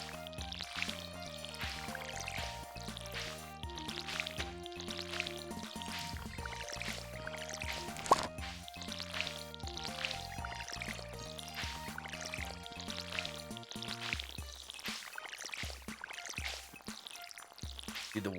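Watering crops in the Stardew Valley video game: soft splashing and dripping water effects repeat in rhythm over a steady melodic in-game music track, fairly quiet overall.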